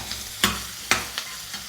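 Mutton stew ingredients sautéing in a pan after salt is sprinkled in, a low steady sizzle punctuated by a few sharp spatula scrapes and stirs.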